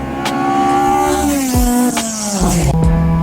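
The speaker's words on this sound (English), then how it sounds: "From the outside, the car does not sound good shifting from 3rd to 5th." Time-attack race car on track at TMP Cayuga with a missing 4th gear, loud and close, engine note rising then dropping as it shifts from 3rd to 5th, with brief tire noise.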